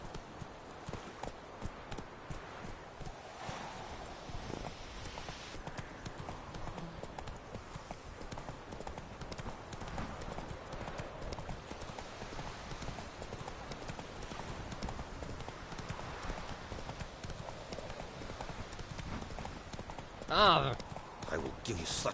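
Horse hooves clip-clop steadily at a running pace in a fantasy video game, a faint rhythmic patter under ambient noise, with a voice speaking briefly.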